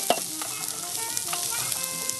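Garlic and onions sizzle in a paella pan over an outdoor firepit, a steady close crackle with a few sharper pops and stirring scrapes, no voices.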